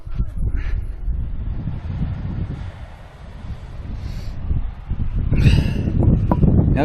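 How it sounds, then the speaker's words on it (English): Strong wind blusters across the microphone at a beach on the coast, a steady low roar that swells louder toward the end, with no voices. "And it's very windy."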